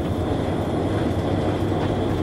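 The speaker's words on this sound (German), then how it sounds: "Ungehindert fährt der Zug mit etwa 40 Kilometer pro Stunde in Richtung West-Berlin." A train rolls steadily at about 40 km/h toward West Berlin, a continuous broad rumble and rattle of rail cars, loud and unbroken throughout.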